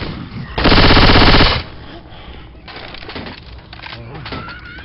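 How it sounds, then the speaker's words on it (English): A machine gun in the Left 4 Dead 2 zombie shooter lets off one loud, sustained burst of about a second, then falls back to quieter game noise and scattered clatter, with voices faintly underneath. "Taking the machine gun."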